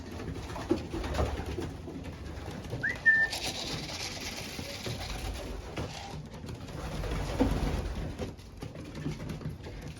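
Young pigeons give soft, low coos while being hand fed, with a brief whistle-like note, close and fairly quiet amid light rustling.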